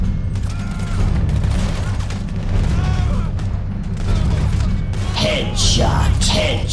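Repeated gunfire crackles through a chaotic firefight in Grand Theft Auto 5 gameplay, dense bursts of shots over rumbling game sound, with shouting voices throughout.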